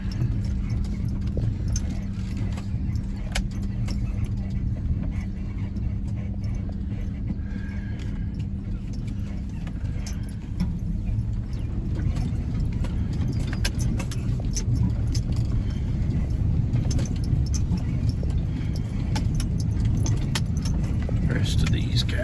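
A vehicle drives across a cattle pasture to check on cows, its steady engine rumble and rattling constant throughout, with someone talking over it.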